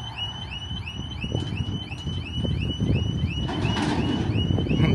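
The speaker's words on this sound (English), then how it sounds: "We got some kind of alarm going off." A motorcycle alarm wails in a steady repeating siren pattern, moderately far off, over wind buffeting the microphone at an outdoor truck festival.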